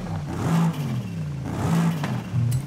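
A turbocharged Mercedes in Forza Horizon 5 revs in short repeated bursts, its engine whirring up and dropping back at close range.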